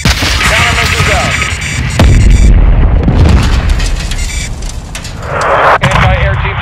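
Heavy in-game explosions destroy an anti-air team in Call of Duty: Modern Warfare II, loud booming blasts over dense combat noise, with radio-style voices talking.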